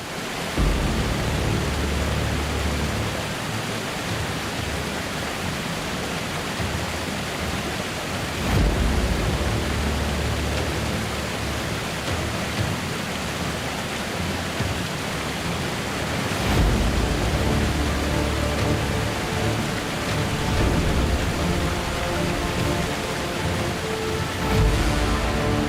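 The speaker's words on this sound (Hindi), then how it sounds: "किले के रास्ते में ये एक ऐसा वाटरफॉल है जो किसी का भी दिल जीत सकता है" Waterfall on the path to a fort, a dense, continuous rushing roar of falling water, close and steady, with periodic low surges in its rumble.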